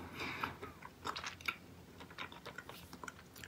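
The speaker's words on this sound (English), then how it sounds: "hear the small, tiny little crunches inside my mouth from those hard candies, chunks, cherry flavor" Charms Blow Pop cherry hard candy being chewed close to the mouth, a run of small crisp crunches and bites in irregular bursts, with no talking.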